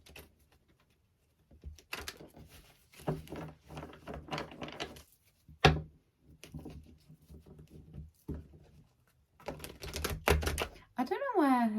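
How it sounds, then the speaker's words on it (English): Tarot cards are shuffled in repeated quick, papery riffling bursts, loud and close, alternating with a voice speaking between the shuffles. "Shuffle the cards up."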